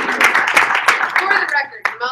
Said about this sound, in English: So everyone please give a round of applause.